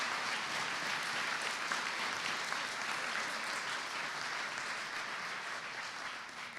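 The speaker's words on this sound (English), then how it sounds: "So I'd like a round of applause for Chief Swoboda." Steady applause from an audience at a police awards ceremony fills the whole stretch, dense and even, tapering slightly toward the end.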